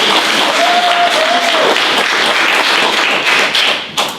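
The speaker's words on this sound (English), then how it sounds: "she gets another round of applause for raising her hand" Applause from an audience at a Toastmasters meeting, a steady crowd of clapping that holds for about four seconds before tapering off at the end.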